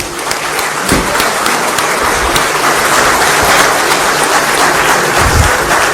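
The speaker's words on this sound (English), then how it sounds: "can we have a round of applause, thundering applause, please, from everybody?" A large audience at an annual business summit in Delhi breaks into sustained, dense applause, a steady loud wash of many clapping hands lasting several seconds without speech.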